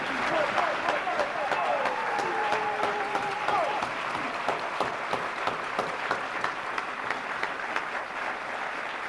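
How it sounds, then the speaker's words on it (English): A conference audience breaks into sustained applause for volunteer workers, many hands clapping steadily throughout, with voices and a few whoops rising over the crowd noise. "you should give them a wonderful round of applause."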